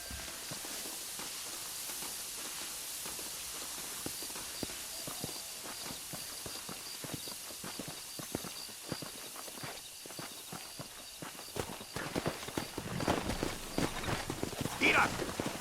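Horse hooves clip-clopping in Red Dead Redemption, a run of close, rhythmic hoofbeats that grows louder and quicker toward the end, under a faint hiss and with speech nearby.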